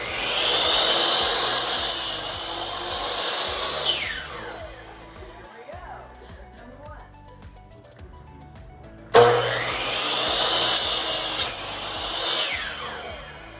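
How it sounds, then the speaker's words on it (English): Power saw whining through 2x4 lumber in two long bursts, a quieter pause with faint clatter between them, loud and close. "then head over to the saw to cut the 2x4s"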